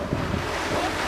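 Cold gusty wind blowing outdoors beside a large XXL swing, a loud steady rush of wind noise buffeting the microphone throughout the short moment with no talk.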